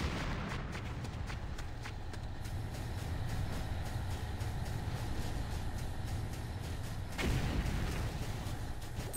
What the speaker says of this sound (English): GDI Tiberium Refinery under attack.